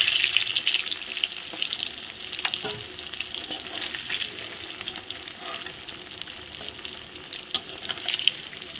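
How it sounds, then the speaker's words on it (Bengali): Pieces of rui fish fry in hot oil with a continuous crackling sizzle, dotted with sharper pops and occasional utensil scrapes, close and moderately loud without speech. "মাছগুলো ভাজা হয়ে গেছে"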